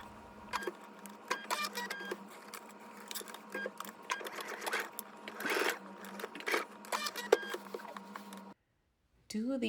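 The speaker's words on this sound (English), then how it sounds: "take this to your sewing machine and base stitch your zipper to the front" A sewing machine base stitching a zipper onto the front of a jacket runs in steady close bursts with brief pauses, ending in a short silence before it starts again.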